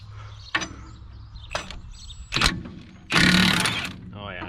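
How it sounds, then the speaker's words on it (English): A Milwaukee impact wrench loosens the knife bolts on a Gehl 1085 forage chopper on a dairy farm. It fires in several short bursts, ending in one longer loud rattling burst, with a person talking nearby. "I'm gonna have to grab the Milwaukee and see if we can get them loose with that."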